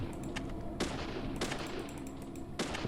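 Gunfire aimed at an axe murderer in Deadly Premonition, a few sharp shots cracking out at intervals over a steady rumbling background.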